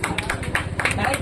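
Hands clapping in rhythm during a children's game in Odisha, with steady, close claps running under lively children's voices and talk.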